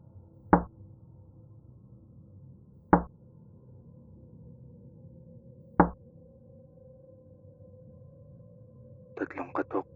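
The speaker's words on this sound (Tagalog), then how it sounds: "may narinig akong katok. Hindi sa pinto, kundi sa bintana ng kwarto ko." Three sharp, evenly spaced knocks on a bedroom window ring out against a low steady hum, creepy horror-story effect, followed by a brief fluttering rattle at the end.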